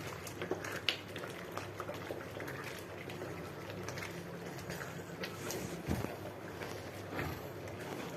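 Water simmering in a pot of village-style mutton biryani, a steady faint bubbling and hiss with small irregular pops and an occasional soft knock, continuous and close.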